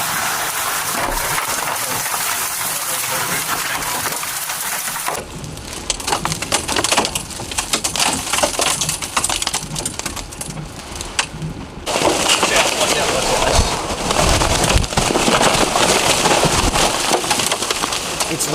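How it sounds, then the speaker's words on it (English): Hurricane winds tearing roof shingles loose in Puerto Rico: loud, chaotic rush of wind and pelting debris, with crunching, splintering impacts scattered throughout and a brief quieter stretch in the middle. "It's raining shingles."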